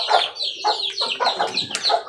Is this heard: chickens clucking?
yes